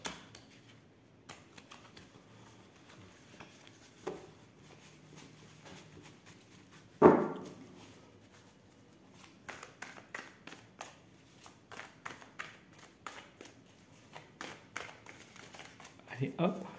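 Tarot cards shuffled by hand in a quiet room, giving bursts of soft riffling and flicking clicks, with a sharper slap near the middle and quicker repeated patters toward the end.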